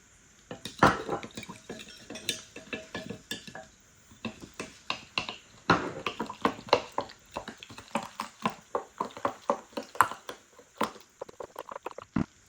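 A utensil stirs warm water, sugar and yeast in a bowl, giving quick repeated clinks and scrapes in bursts, close and fairly loud, with a brief pause midway and no talking.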